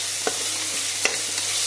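Ginger garlic paste sautéing in sesame oil for a mutton curry gives a steady, close sizzle with a couple of light spoon clinks over the hiss.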